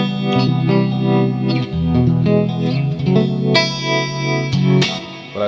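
A distorted Mexican-made 60th Anniversary Stratocaster with Seymour Duncan Hot Rails and Vintage Rails pickups plays chords and single notes with a warm overdriven tone and some effects shimmer, with no voices.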